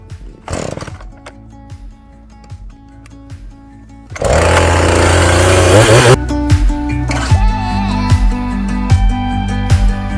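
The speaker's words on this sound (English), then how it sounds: "We're going to cut the I-beam shaped notches so that the logs fit right in the cup." A chainsaw cutting I-beam shaped notches into logs for an Alaska log cabin: idling engine and sputters at first, then a loud sustained cut for about two seconds, followed by high revving and continued engine drone nearby.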